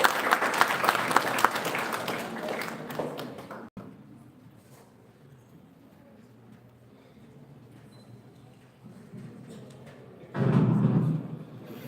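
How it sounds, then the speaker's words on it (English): Students applaud at an international conference: about four seconds of dense, loud clapping, then a quiet room with a low hum, and a short, heavy burst of noise near the end. "Big round of applause, students."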